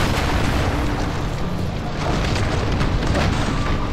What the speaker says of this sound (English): Oh, more missiles!